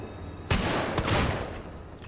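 A burst of rapid gunfire in the video game Alien Isolation erupts, a few overlapping shots in quick succession with a lingering rumbling tail.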